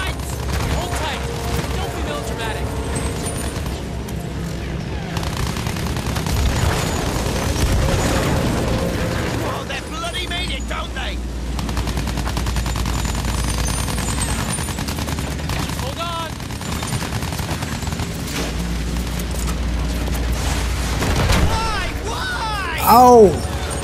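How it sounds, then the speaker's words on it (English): Battlefield 1 combat fills the scene with dense bursts of machine-gun fire and booming explosions around an aircraft, continuous and loud, with a player shouting over it. "Enemy fire! Enemy fire!"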